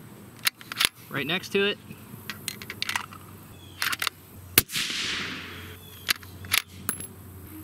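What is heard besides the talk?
rifle gunshots at a shooting range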